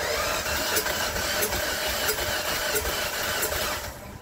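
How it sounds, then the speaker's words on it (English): A Ford Fiesta engine with its head gasket recently replaced is cranked over by the starter, a steady mechanical whirring drone with regular rhythmic pulses, heard close up and alone before it cuts off near the end. "I'm going to crank the engine over to see if coolant spits out of there."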